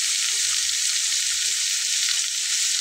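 Bitter gourd fries in a pan with a loud, continuous close sizzle and faint stirring movement underneath, steady throughout with no voices.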